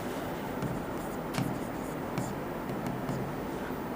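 Pen or pencil writing by hand on paper while working a Class 10 maths problem, a soft continuous scratching with a few sharper strokes, close and fairly quiet, with no talking.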